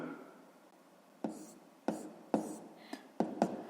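A pen marks numbers by hand on paper in a quiet room, producing a handful of short, sharp scratchy strokes and taps in an irregular rhythm, close and soft.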